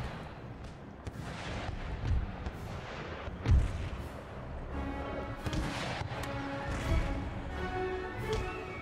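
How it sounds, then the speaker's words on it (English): Howitzer artillery fire in the Empire: Total War battle game booms repeatedly over a dense battlefield din, with several heavy, spaced thumps rising out of constant crackling gunfire. "Let's redirect my howitzer fire."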